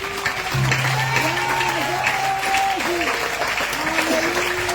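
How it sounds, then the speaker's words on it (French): A church congregation claps loudly and steadily in praise of Jesus, while a voice rings out above them and a long sustained musical tone hums underneath. "tu vas donner une forte offrande d'acclamation au Seigneur Jésus"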